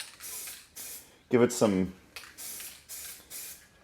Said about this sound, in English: I'm just gonna spray a little clear on here